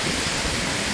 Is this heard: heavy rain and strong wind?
yes